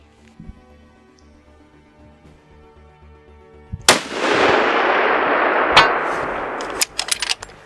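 A 300 Win Mag rifle fires once, a sharp, loud report at about four seconds that leaves a long, broad echo rolling away for several seconds, with a few faint clicks and taps before and after.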